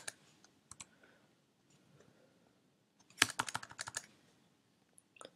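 Fingers type on a computer keyboard, sparse quiet key taps at first, then a quick burst of clustered clicks in the middle, trailing off to a few isolated presses; faint and close.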